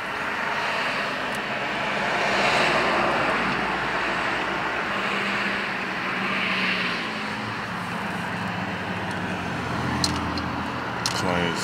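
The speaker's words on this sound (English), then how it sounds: "Planes coming in." Airplanes descending toward Nashville's airport, heard from a roadside as a broad, steady engine roar that swells and fades over several seconds, mixed with road traffic noise in the background.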